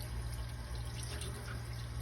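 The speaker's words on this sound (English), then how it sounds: "I'm gonna go ahead and now wet my wrist and my hands thoroughly" Tap water runs steadily into a sink as wrists and hands are wetted for handwashing, a constant close rushing flow with a low hum beneath it and no speech.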